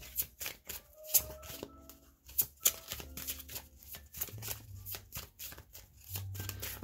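Tarot cards being shuffled in a quiet room: a run of soft, rapid riffling flutters and light papery taps, close and fairly faint, with no talking.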